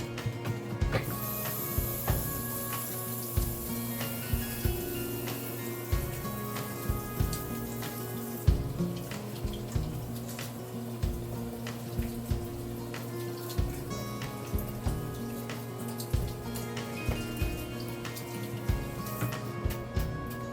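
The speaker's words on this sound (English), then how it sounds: "now that I have washed my hands" Water from a running kitchen tap splashes steadily over hands being washed before cooking fried tilapia and mashed potatoes, a continuous close spray with small irregular splashes and no talking.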